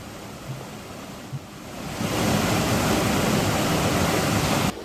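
A waterfall in the Sierra Nevada de Santa Marta jungle of Colombia rushes with a steady, broadband roar that swells louder after about two seconds and holds, with no voices.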